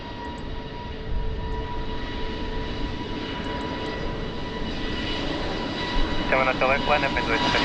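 An airliner powers up for takeoff on runway 20 at Lisbon Airport, its engine roar broad and steady and building slightly, with faint radio voices and a brief higher chatter near the end.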